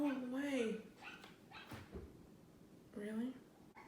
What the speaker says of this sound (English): Sorry if you can hear a dog yapping.